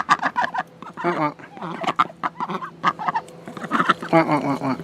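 Chickens at a coop on move-in day cluck and chatter in a busy, overlapping stream of short calls, close and steady, with several birds sounding at once.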